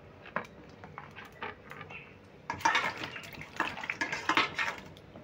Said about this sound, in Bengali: এই জলটাতে আমি পটলগুলো আর একবারও ভালো করে ধুয়ে নেব।